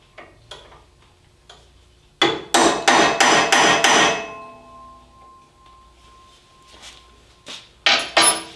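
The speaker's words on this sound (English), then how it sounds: "I have a 1/4 inch center punch, which I can use to mark my holes. And I just tap them to mark the position." A 1/4 inch center punch tapped with a hammer to mark holes on a metal L-bracket for a bandsaw table extension: a quick burst of about six sharp metallic taps, close and loud, with fainter isolated knocks before and after.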